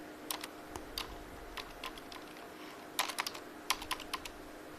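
Close computer keyboard typing in short irregular bursts of crisp key clicks, a quick cluster near the middle and another toward the end, in a quiet room with no speech.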